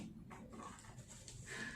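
A person panting out of breath indoors while unboxing a delivered baby cabinet, quick repeated breaths close to the microphone with no speech.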